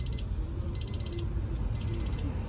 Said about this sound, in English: I'm actually gonna turn the alarm off